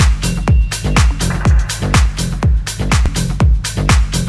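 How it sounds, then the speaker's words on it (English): Loud bass-heavy music with deep low end boosted by a Pultec EQ at 30 Hz, thumping kick hits repeating in a steady rhythm of about two per second. "So I take a Pultec EQ, I add 2 dB at 30 Hz, and it sounds like this."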